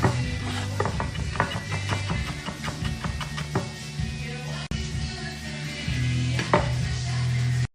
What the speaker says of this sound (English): So just really finely chop up those chilies.